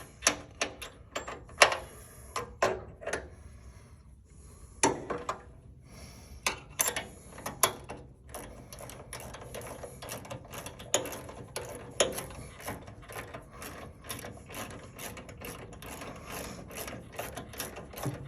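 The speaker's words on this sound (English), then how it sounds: "I like to use a ratchet wrench to get in here." A ratchet wrench turns on an early-style Club Car DS golf cart pedal linkage, producing close, quick clicking in uneven bursts that settle into a steady run of ticks.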